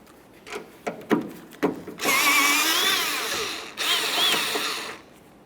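A 10mm socket on a ratchet or power driver works the upper trunk lift support bolt on a 1994-1997 Honda Accord. A few sharp clicks come first, then two sustained whirring runs, close and loud.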